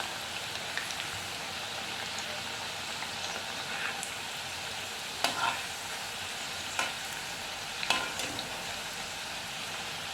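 Soft, steady sizzling of crispy Assamese Bihu snacks frying gently on a low gas flame, with a few faint clinks and stirring taps now and then.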